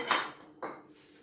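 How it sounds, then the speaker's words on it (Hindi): Spiced potato filling for aloo paratha, made with chillies, ginger, mint and coriander, mixed in a bowl, giving two short clinking, scraping strokes close by with a quiet pause between them. "अब इसको अच्छी तरह मैं मिक्स करूंगी"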